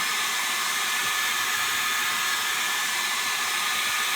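Loud, continuous hair dryer noise, an even airy roar that holds steady from start to finish with no talking.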